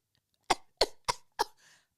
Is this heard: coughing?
yes